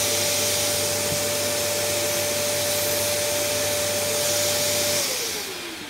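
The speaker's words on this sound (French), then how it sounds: "j'en ai un petit coup d'aspirateur" A small vacuum cleaner used to clean a camera lens runs close by with a steady loud whir and tonal whine, then spins down near the end as its pitch drops and the noise fades.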